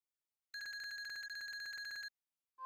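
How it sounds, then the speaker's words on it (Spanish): A telephone rings in the video game Super Mario RPG, a rapid, trilling electronic bell sustained for about a second and a half, fairly faint and alone, followed by a brief start of another tone. "Te llaman al teléfono."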